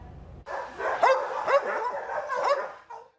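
Several dogs at a county animal shelter bark and yip excitedly, a close, busy run of overlapping barks with short whimpering calls between them.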